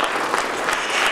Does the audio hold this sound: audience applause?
yes